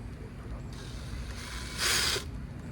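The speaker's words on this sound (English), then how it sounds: "now basically I'm just taking my bit out, counterclockwise" Drill bit being backed out of a drill chuck, turning counterclockwise, a faint close mechanical whir and ratcheting with a louder brief burst of the drill near the end.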